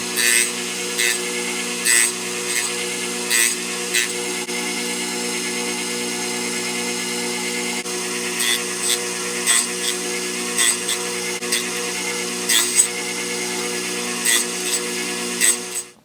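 A small saw cuts wooden frames for an HMS Thorn model ship, its steady whining hum broken by recurring louder bursts as the blade bites, close and continuous with no talking.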